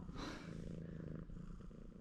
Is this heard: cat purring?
yes